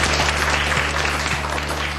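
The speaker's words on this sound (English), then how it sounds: "Give yourselves a really, really big clap." A class of schoolchildren claps for themselves during a lesson, a brief burst of dense, fairly close clapping over a steady low hum, with no voices.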